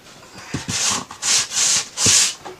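Hand sanding of drywall at a cabin, four or five distinct loud rasping strokes in an uneven rhythm, close up, with small knocks between strokes and no voices.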